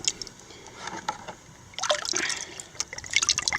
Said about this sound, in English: So now we'll flush it with water.